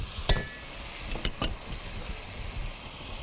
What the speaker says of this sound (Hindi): ये सारी की सारी चली जाएगी इसमें और अब होगी इसकी भुनाई।